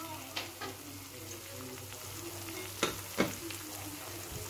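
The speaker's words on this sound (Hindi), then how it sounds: "देख सकते हैं ये चिकन अच्छी तरीके से पक रहा है।" Afghani chicken with roasted onion cooking in a pan without added water, giving a low, steady sizzle with a few sharp clicks and scrapes of a spoon stirring.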